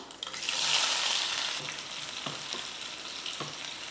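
Small onions fry in oil for a dal tempering, a close, rushing sizzle that swells at first and then settles, with a few soft knocks from a stirring spoon and no voices.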